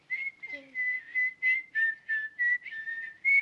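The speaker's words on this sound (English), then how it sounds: "No good whistling. Just air." A person whistles a steady Jingle Bells tune of repeated sustained notes, fairly close and alone, with a brief low squeak partway through.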